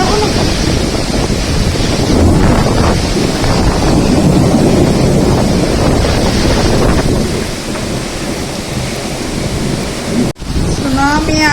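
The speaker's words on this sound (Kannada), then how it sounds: "ಸುನಾಮಿ ಆಗೋ ಲೆವೆಲಿಗೆ ಮಳೆ ಐತಿ ನೋಡಿ, ಫುಲ್ ಜೋರ್ ಅಂದ್ರೆ ಜೋರ್ ಐತಿ" Heavy rain driven by strong wind, a loud, continuous roaring wash with gusty buffeting against the microphone, steady throughout, then a brief dropout near the end.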